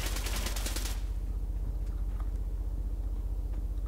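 Automatic rifle fire in the shooter game Survarium: a rapid burst of sharp shots in the first second, then quieter scattered distant shots over a rhythmic low background hum.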